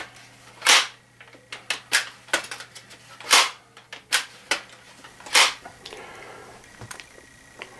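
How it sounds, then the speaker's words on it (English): A Crosman MK-177 air rifle with a sticking pump mechanism is worked repeatedly, making a series of sharp, close clacks and snaps at uneven intervals, some louder than others, with no talking. "they stick and makes it very difficult to pump, which I will demonstrate"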